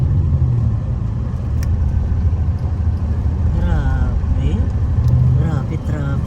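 Heavy, slow-moving road traffic in the heart of Tagbilaran rumbles steadily and close by as a constant low engine drone. Faint voices and a few brief sounds rise above it.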